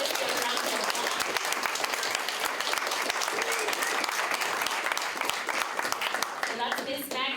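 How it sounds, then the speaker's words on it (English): Sustained applause from an audience at a community storytelling event in Taos, dense and steady throughout, with a few voices faintly mixed in near the end. "I just want to formally introduce her with a round of applause."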